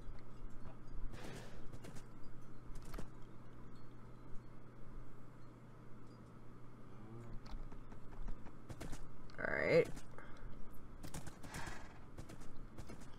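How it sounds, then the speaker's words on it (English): Horses in the Minecraft video game, with soft hoof clip-clops and occasional odd whinnying calls among faint game sounds, plus a brief spoken word. "The horses make such weird sounds."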